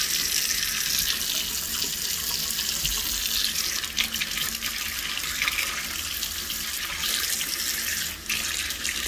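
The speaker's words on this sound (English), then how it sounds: "I'm still waiting on my hot water" A kitchen faucet runs steadily in a home while waiting for hot water, giving a continuous close hiss of flowing water into the sink with no talk.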